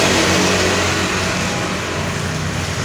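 A white 2018 Honda Vario 50 cc scooter with its original factory-sealed engine revs in a steady, loud, continuous drone that holds its level throughout, with no one talking.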